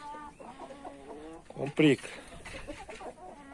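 Young chickens, brothers of the same age, scuffle and cluck in short, sharp bursts, quiet and somewhat distant, while a person talks nearby.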